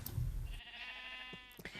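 A sheep bleats in the Minecraft video game with one drawn-out, wavering baa that is clear and close, followed by a couple of faint clicks.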